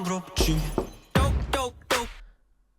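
A glass of milk shatters in a music video, heard as several sharp crashing, breaking hits in quick succession, loud and close, with brief tonal ringing between them.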